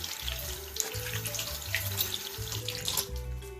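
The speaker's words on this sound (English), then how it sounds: "rinse off." Tap water runs steadily into a sink while hands are rinsed under it after scrubbing soap from beneath the nails, a continuous close splashing with small shifts as the hands move.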